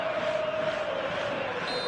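Stadium crowd noise in eFootball before kickoff, a dense, steady roar of cheering fans filling the whole stretch at even loudness, with a sustained chant-like tone running through it and no speech.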